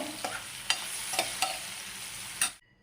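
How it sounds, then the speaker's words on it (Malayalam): Bitter gourd slices and green chillies frying in hot oil for a kondattam-style dish, a steady crackling sizzle with several sharp stirring clinks, then sudden silence at the end. "പാവയ്ക്ക ഫ്രൈ ചെയ്ത് എടുക്കുന്നതിന്റെ കൂട്ടത്തിൽ നിങ്ങൾ രണ്ട് പച്ചമുളകും കൂടെ ഒന്ന് ഇട്ടിട്ട് ഫ്രൈ ചെയ്ത് നോക്കിക്കോ"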